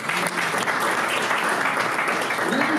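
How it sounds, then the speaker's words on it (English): Steady applause from an audience at a comedy launch event fills the whole stretch, a dense even patter of many hands clapping at close range. "please give yourself a round of applause"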